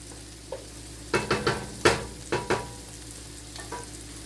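Ragu bolognese sizzles in a pan over a medium fire, with a string of sharp scraping stirs and clatters over a steady frying hiss, close and without any talking.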